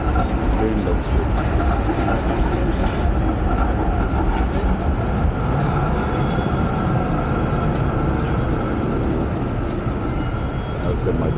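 Trains at Flinders Street station in Melbourne, heard as a continuous loud rumble of rolling railcars with brief high wheel squeals partway through, steady for the whole stretch.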